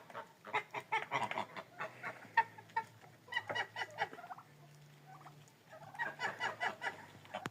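Bourbon turkeys gobble in repeated rattling bursts, with a pause in the middle before the bursts resume, sounding close and fairly loud.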